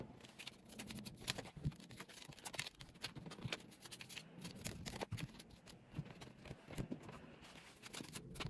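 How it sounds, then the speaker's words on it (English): Tarot cards being shuffled by hand, giving a steady run of soft riffling and tapping noises at close range, with no talking over them. "let's get into the shuffling process first"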